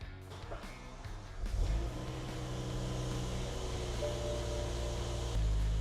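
A BMW E60 M5 V10 cranks over briefly, catches with a rising roar, then settles into a steady, loud idle with a deep continuous drone, the revs stepping up slightly near the end.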